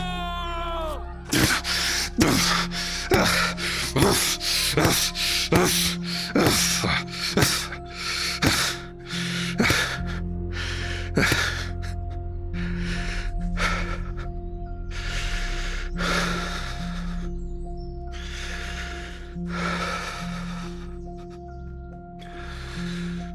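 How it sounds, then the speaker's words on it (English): Heavy, ragged breathing in an audio drama after a struggle with a creature, close and loud, with rapid sharp gasps at first that slow into longer, deeper heaving breaths. "I breathe heavily."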